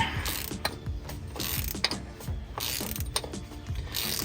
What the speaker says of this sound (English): You need the special Toyota wrench to do that, at least to do it neatly and relatively safely.